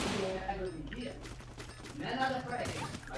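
Rapid bursts of gunfire in the Free Fire video game, crackling in quick volleys under excited talking and low background music.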